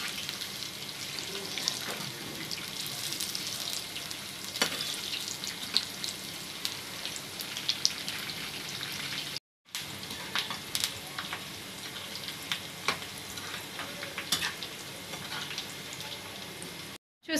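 Meal maker soya chunks frying in oil on a medium flame, a soft steady sizzle with crackling pops and light stirring, interrupted by two brief dropouts.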